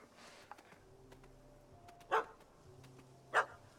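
A dog barks in The Witcher 3 Heart of Stone expansion, giving two loud, separate barks over quiet game ambience, about a second apart.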